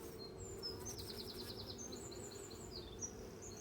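Honey bees buzz around an open hive at an apiary, a low, steady hum close by, with faint high bird chirps above it and no talking.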